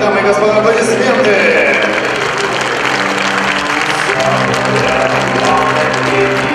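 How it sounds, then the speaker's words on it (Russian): Crowd applause fills the hall after a bout at a Draka fight event, dense and sustained for the whole stretch, with a voice likely talking over the clapping. "Еще раз вам аплодисменты"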